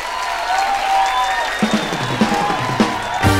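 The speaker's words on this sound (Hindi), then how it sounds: "तो हमारे तीनों गेस्ट के लिए जोरदार तालियां" Studio audience at a Hindi comedy stage show clapping and cheering to welcome three guests, a steady crowd wash with louder bursts of clapping near the end.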